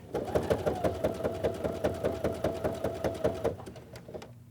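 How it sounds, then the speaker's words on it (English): A sewing machine runs a tight zigzag stitch joining two parts of a pants zipper, a fast steady rhythmic clatter of needle strokes that stops near the end with a brief click. "We want to be able to sew these two guys together down here."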